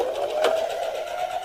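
A sewing machine stitches the second side of a fabric grow bag in one steady, fairly loud mechanical hum with no talking.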